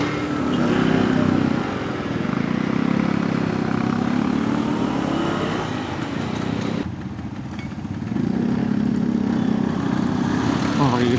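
A 1972 Vespa Super scooter's small two-stroke engine drones loudly and steadily on a test ride, dipping briefly midway as revs change, with a rider's voice heard in the clip.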